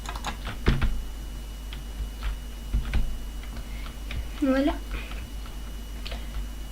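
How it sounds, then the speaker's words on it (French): Computer keyboard typing and mouse clicks come as scattered sharp ticks and taps behind someone speaking French, with a brief whistling tone in the middle. "désolé pour les bruits de mon clavier ou de ma souris"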